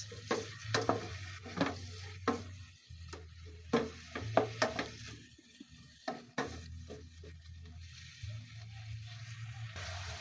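Sayote and sardines stirred in a frying pan, a steady soft sizzle broken by repeated scraping clinks of a utensil against the pan, close and moderately quiet.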